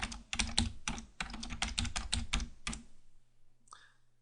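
Quick, bright keystrokes rattle on a computer keyboard while song lyrics are entered into chord-sheet software, a close, steady burst that stops abruptly and is followed by a short tonal blip.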